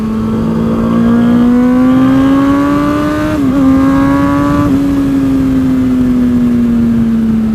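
A carbon-bodied Ducati Panigale motorcycle engine revs loud and close with a sustained, steady high-pitched whine that briefly dips and recovers midway, then holds and slowly eases.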